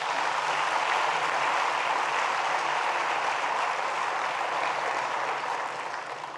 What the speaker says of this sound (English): we all need to give a round of applause to that